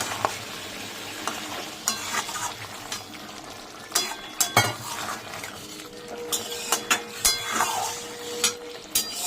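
Coriander leaves are stirred into a pan of bean-leaf paturi, with a spoon scraping and clinking against the pan in irregular bursts over a soft, steady sizzle, close and fairly quiet.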